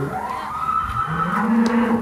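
Cattle in a farm pen give a low, drawn-out moo that rises and holds, heard fairly close amid quiet pen noise.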